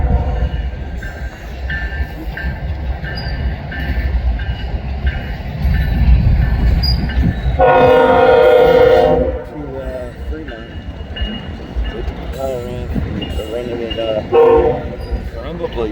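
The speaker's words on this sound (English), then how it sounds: "here's the power from last night's intermodal that went by." Locomotives on an intermodal freight train near Fremont, Nebraska rumble past close by, with a loud horn blast in the middle and shorter horn notes near the end, under occasional talk.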